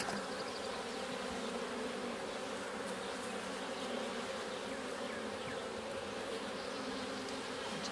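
Dense, steady buzzing of honeybees swarming around an open hive during an inspection, a continuous close hum with no voices.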